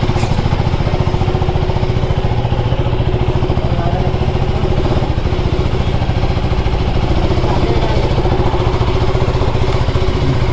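A 2024 KTM Duke 390 motorcycle engine drones steadily while riding, a dense, continuous buzz with wind rush and no clear shifts or pauses.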